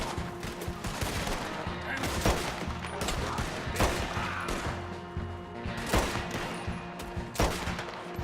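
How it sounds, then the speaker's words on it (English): Rapid gunfire crackles through a Red Dead Redemption 2 video game shootout, dense overlapping volleys of shots and bursts filling the scene with repeated sharp cracks at steady intervals, loud and continuous with no talk. "Get behind something, Arthur. Shoot, Arthur"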